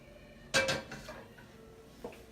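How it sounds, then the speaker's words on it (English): A metal skillet clanks down onto a stovetop with a bright rattling knock, followed by a fainter clink a moment later, close and otherwise quiet. "Get a new skillet, and we're going to put it on medium-low."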